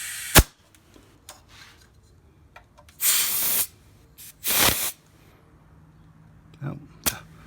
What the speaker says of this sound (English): Now we'll just put some air in it real quick.